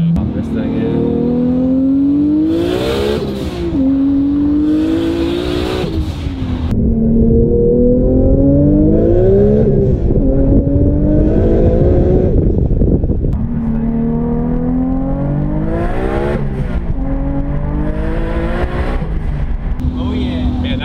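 A built 1027-horsepower Lexus IS300 sleeper engine with a ported, polished head revs hard and loud, pitch climbing and falling in repeated surges throughout, with people talking over it.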